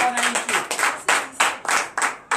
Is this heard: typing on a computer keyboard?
no